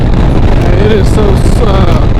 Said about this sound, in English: this wind is just ridiculous